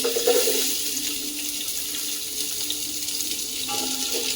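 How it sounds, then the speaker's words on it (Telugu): Onions tipped all at once into hot oil for a home-made veg biryani, giving a loud hissing sizzle that starts strong and settles into a steady close fry with no voices. "అన్ని ఆనియన్స్ ఒకటేసారి వేసేస్తున్నాను ఫ్రై అవ్వడం కోసం"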